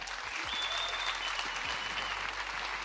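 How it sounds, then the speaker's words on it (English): A room full of people applauds steadily, dense clapping sustained at an even level throughout, with a faint tone running beneath. "Let's give them a round of applause."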